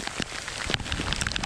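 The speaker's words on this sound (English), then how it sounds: "This rain is not gonna stop me." Heavy rain patters on a beach, a dense, close crackle of drops striking the surface and nearby gear, continuous over a short stretch.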